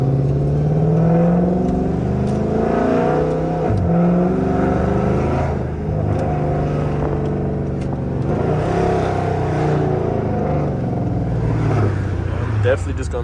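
A Dodge Charger R/T engine pulls steadily and loudly through a U-turn, a continuous close drone with shifting pitch, while someone talks over it.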